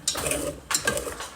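Wooden utensil scraping food stuck to the bottom of a worn frying pan while cooking Indomie, two short rough scrapes close by, separated by a brief pause.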